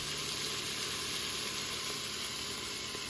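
Chopped jalapeno and garlic sizzle in a hot Instant Pot, giving a steady, even frying hiss that runs unbroken and fairly quiet, with no voices.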